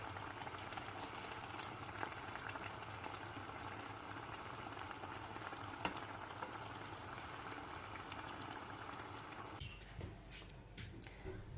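Small sugar-dusted beignets frying in hot oil make a dense, steady bubbling sizzle that holds evenly for most of the stretch. It thins abruptly near the end, and no one speaks.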